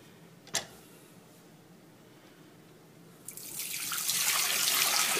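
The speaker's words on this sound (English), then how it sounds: "Dump it in the sink." Collected dehumidifier water being poured into a sink, a single knock followed by a rising, steady splash of water that keeps going to the end.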